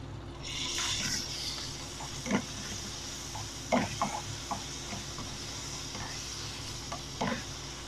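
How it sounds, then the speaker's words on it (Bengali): Garlic and ginger paste frying for a vegetable noodle dish, a soft constant sizzle broken by a few sharp scrapes of a spatula across the pan, close up and fairly quiet, with no voices. "ভালোভাবে ওটারে কষিয়ে নিব"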